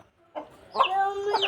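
Hen or rooster clucking in a home garden, a few short bursts close by, with a quieter lead-in before a steadier run of clucks.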